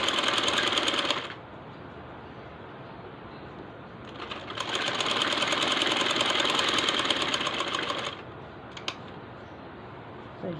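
A sewing machine stitches a seam in cut fabric, its motor whirring loud and steady in two bursts of a few seconds each with a short pause between, close up and with no talk.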